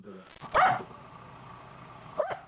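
A dog barks sharply a couple of times, fairly close, with a brief lull between the barks and faint voices in the background.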